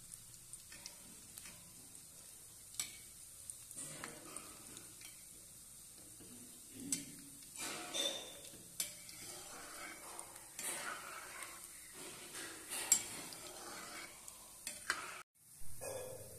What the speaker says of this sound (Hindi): इसे हम सुनहरा कलर आने तक धीमे आंच पे तलेंगे।